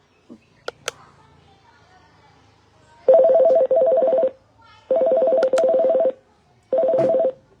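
A telephone call connects: a few faint clicks come first, then three loud, steady ringing-tone bursts separated by short silences.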